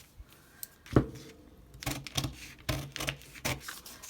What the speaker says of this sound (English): So I'm going to cut that out.